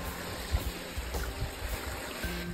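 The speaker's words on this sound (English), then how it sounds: "we are on a bridge to the French River" The French River flowing beneath a bridge along the Superior Hiking Trail, a steady rushing wash of water with slight surges, heard close by and alone.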